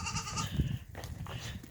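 Baby goats on a goat farm bleat in short, nasal cries, several overlapping calls close by against outdoor background noise.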